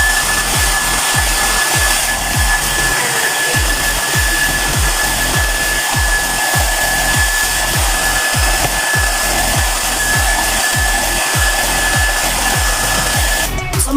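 A Gaabor hair dryer runs continuously at close range, a loud, steady whooshing roar with a faint high whine, alone without speech.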